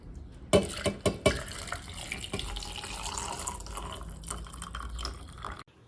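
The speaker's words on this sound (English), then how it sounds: "Finally, add the liquid to the jars." Pickling brine runs steadily into glass jars, a continuous splashing stream with a few clinks of glass at the start, fairly close.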